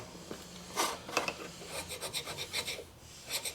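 The piston from a Harley S&S 113ci Evolution motor being scraped by hand in a workshop: short, gritty rasping strokes, a few quick ones and then a steadier rhythmic series, close and fairly faint.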